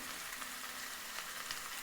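A pot roast sizzles steadily in hot oil, a close, continuous frying hiss that holds an even level throughout with no voices.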